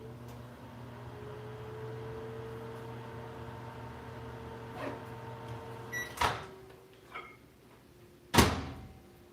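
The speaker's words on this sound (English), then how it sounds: "A little microwave, as Nigella would say." A small microwave oven running with a steady hum and whir while chicken soup is made, then a beep, the door opening with a sharp clack and further clunks and knocks close by.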